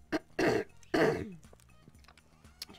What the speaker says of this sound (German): Ich hoffe, dass dieses Räuspern auch gleich wieder aufhört.